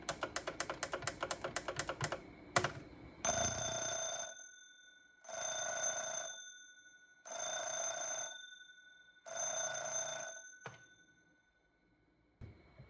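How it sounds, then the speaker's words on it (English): A Panasonic RC-6180 "Big Bell" clock radio's mechanical alarm bell rings loudly in four sustained bursts of about two seconds each, separated by short pauses, after some rapid clicking of controls. "And here's that bell going off again."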